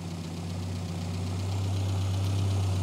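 Classic Mini A-Series engine in a rat rod, running during a carburettor tune-up: a steady, close idle with a deep continuous hum that swells slightly louder and faster partway through.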